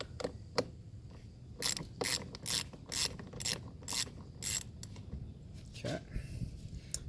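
Socket wrench ratcheting in a quick series of sharp clicks as the battery terminals are loosened on a Toyota Land Cruiser 200 Series, close and fairly loud, with a couple of separate clicks before and after the burst.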